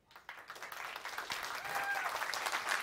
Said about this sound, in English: a big round of applause for all of the speakers, including Jose